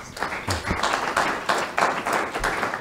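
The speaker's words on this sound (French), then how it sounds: "Vous pouvez les applaudir" Audience applause for panel speakers at a talk on agricultural initiatives in the DRC, loud and fairly close, with clapping that swells and dips in uneven bursts.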